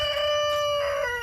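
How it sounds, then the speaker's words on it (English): A rooster crows in a garden on a rainy day, one long, loud, sustained cock-a-doodle-doo sounding fairly close, with no talk over it. "I'm going to have to talk over the roosters."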